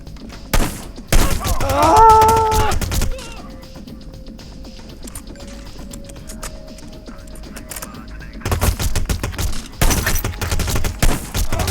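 Gunfire in Hitman: Blood Money, loud broadband bursts at the start and again near the end, separated by a quieter stretch with ambient tones and a voice in the middle.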